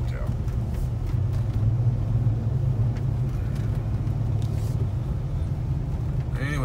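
A pickup truck on a winter highway drive in eastern Canada gives off a steady, loud low engine rumble and road drone from inside the cab, continuous and unbroken throughout.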